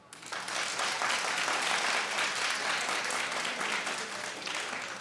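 Studio audience at a comedy talk show claps in a full, steady burst that starts abruptly and holds at an even, fairly loud level for several seconds.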